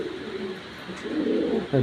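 An Afghan grizzle pigeon coos in a low, throaty rolling call, close by, with a short louder coo at the end.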